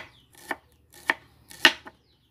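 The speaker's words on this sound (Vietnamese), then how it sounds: "Giờ mình sẽ xắt củ hành ra nhuyễn nhuyễn như thế, mỏng mỏng." A knife chops onion finely on a board for a vegetarian ginger braise, four distinct cutting strikes spaced roughly half a second apart, close and fairly crisp, with no talking.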